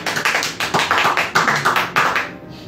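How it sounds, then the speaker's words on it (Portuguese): Church congregation clapping in praise at a Santa Ceia worship service, a steady run of loud, rhythmic hand claps in unison, roughly two per second, close and continuous before fading at the end. "Aplauda o Senhor."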